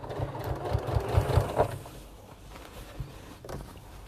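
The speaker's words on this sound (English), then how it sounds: "you're only stitching in that first top crease" A sewing machine stitches the first top crease of a fabric bag in short, uneven bursts of rapid mechanical whirring, close and moderately loud, trailing off into quieter handling noise.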